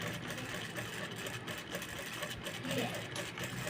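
A sewing machine runs steadily while stitching a plain blouse, a continuous whirring hum at moderate level with faint background noise and no clear pauses.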